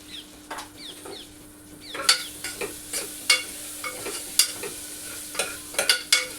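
Garlic paste and chopped tomato fry in a hot pan for khichdi, with a steady sizzle and repeated sharp scraping clicks of a spoon stirring against the pan, close and fairly loud.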